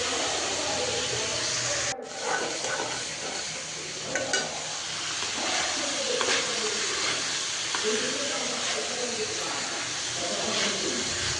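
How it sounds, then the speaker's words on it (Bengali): Vegetables with green chili and onion fry in oil, a continuous loud sizzle with scraping stirring strokes from a spatula, and a voice talking intermittently over the crackle. "তেলে কিছুক্ষণ আমি ভেজে নিব সবজিটা।"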